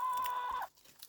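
A backyard garden chicken gives a short cluck or two, brief and fairly faint, with quiet background after.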